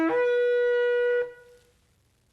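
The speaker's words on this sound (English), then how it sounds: "To hold this is an actual working shofar, and with some practice, you can make it sound like this." A single blast on a Yemenite shofar, a bright, buzzing horn tone that holds steady for just over a second and then stops sharply, close and clear with no voices.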